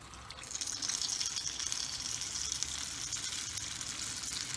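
Potato bondas coated in dosa batter frying in hot oil, a steady, even crackling sizzle with a bright hiss that holds constant throughout.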